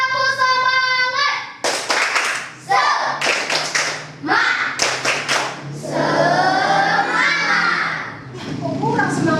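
A classroom of children performs the 'tepuk semangat' rhythmic clap, bursts of loud, close clapping in patterned rhythm mixed with the children's chanting voices and a teacher's voice.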